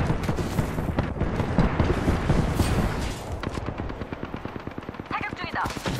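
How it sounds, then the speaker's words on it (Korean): Automatic gunfire rattles in the battle royale shooter Apex Legends, rapid loud bursts of rhythmic shots close up, with speech briefly heard amid the firing. "사격 중이다"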